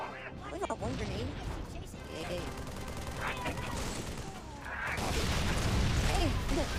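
Gunfire and explosions in the Halo video game, a dense chaotic barrage of shots and blasts that swells louder toward the end, with a player talking over the action.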